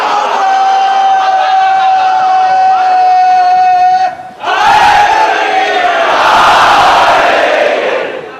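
A crowd at a majlis bellows Naara-e-Haidari slogans: a single voice holds a long call, then after a brief pause a loud massed roar answers.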